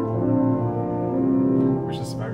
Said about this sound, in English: The open diapason sounds like this.